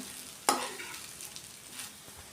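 Ground masala tossed into okra (bhindi) frying in a pan, a sharp scrape at the start followed by soft stirring and a low sizzle, close and fairly quiet with no voices.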